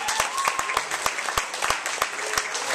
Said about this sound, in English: Can you give yourself some round of applause?